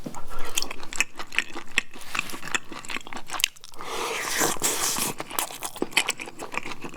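Someone eats spicy grilled beef intestines (bulmakchang), chewing close to the microphone with loud wet crunching and squelching bites throughout, no talking.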